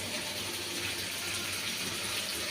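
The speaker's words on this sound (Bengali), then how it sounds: "তো এখন এগুলো ধুয়ে পরিষ্কার করে রাখছি আমি" Cucumber pieces being rinsed under a steady stream of running tap water in a kitchen sink, a continuous close gushing wash with no talking.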